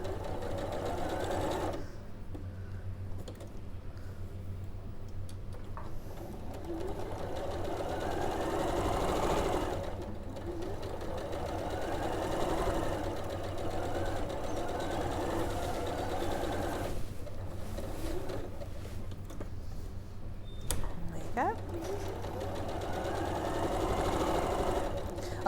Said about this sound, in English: So once you've put your strips together, sew the seams all in one direction.